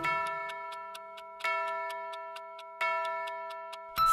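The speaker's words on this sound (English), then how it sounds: "The clock struck three," In a nursery-rhyme scene, a clock ticks steadily while a ringing chime strikes three times at even intervals, each tone sustaining over the ticking.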